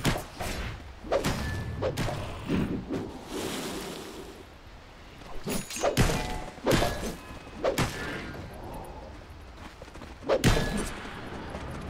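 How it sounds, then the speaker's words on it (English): Heavy thuds and impacts from a Dota 2 match while a tower takes hits, recurring in bursts every few seconds over a steady bed of game noise, with no talk. "Radiant's top tower is under attack."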